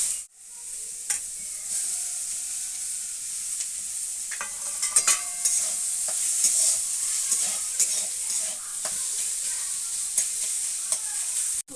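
Chicken and potato stir-fry with ginger paste in a pan, an even sizzle under repeated ladle scrapes and clinks, heard up close with no voices.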